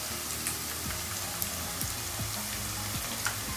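Cumin seeds and half-fried onions crackle softly in hot oil, a faint, even sizzle with scattered light pops and a few quiet utensil taps, no voices.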